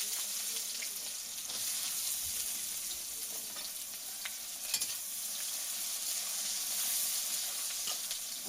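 Onions sizzle in hot oil in a pan for a home-cooked chicken curry, with a steady, bright crackle and occasional stirring scrapes, close and continuous without talk.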